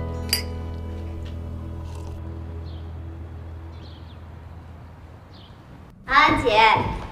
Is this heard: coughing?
no